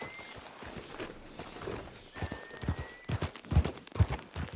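Horse hooves in Red Dead Redemption 2, a steady clip-clop of a trotting horse that grows louder and heavier toward the end, with faint ambient game sound behind it.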